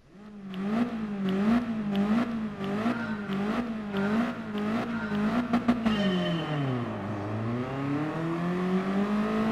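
A BMW M3 Sport Evolution, the classic late-1980s sports car, in Gran Turismo Sport, its engine revving up and down in rising and falling sweeps through repeated gear changes, loud and close, then easing off near the end.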